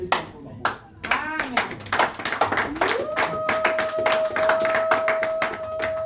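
Church congregation at a Sunday worship service clapping in praise, a dense burst of many hands followed by a sustained rhythmic ovation, with voices singing and calling out over it.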